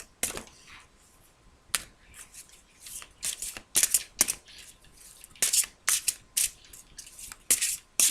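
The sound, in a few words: shuffling and drawing tarot cards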